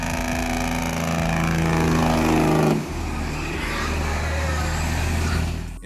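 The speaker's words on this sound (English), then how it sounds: "that's the jake brake releasing compressed air at high pressure through the exhaust." A truck's jake brake sends compressed air out through the exhaust with a loud, close, rough engine roar and buzz that cuts sharply about halfway through, leaving a lower rumble.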